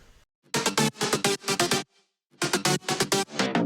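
Three layered synth bass patches from Serum and EFM1 play together in loud, choppy rhythmic bursts, broken by a short gap midway, thick and distorted with a gritty driven edge.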